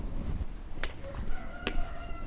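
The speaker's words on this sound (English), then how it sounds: "Hearing the morning rooster." A rooster crows faintly in the distance over quiet outdoor ambience in the older section of Puente la Reina, Spain, with a couple of sharp clicks nearby.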